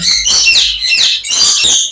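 Loud, shrill screeching calls from ring-necked parakeets at a bird farm come in several close bursts, overlapping and harsh, with no talking.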